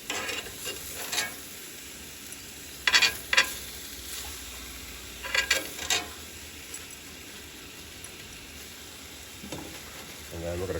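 Onions sizzle on a steak in a cast iron pan in a steady, close frying hiss, broken by a few louder scraping clatters of stirring, with no talking.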